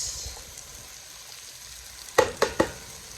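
Mushrooms hit a hot pan in a plokkfiskur-style dish, a quiet background sizzle punctuated by three quick clattering tosses near the end, no talking.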